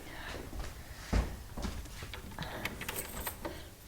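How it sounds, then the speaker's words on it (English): A door being locked: a sharp metallic clack of the bolt, then scattered smaller rattles and clicks of the lock and handle, close by in a quiet room. "I'm going to lock the door again"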